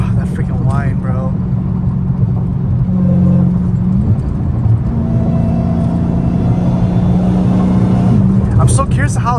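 A Dodge Challenger Hellcat Redeye with straight-piped exhaust roars on a highway beside a wall, a loud, sustained engine drone with supercharger whine heard from inside the car, with people talking excitedly over it.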